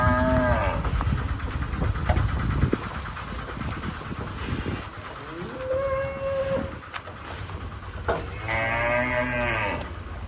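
Giant cattle let out several drawn-out moos at a farm, one near the start, another midway and a long, loud harmonic bellow toward the end, with rumbling background noise between calls.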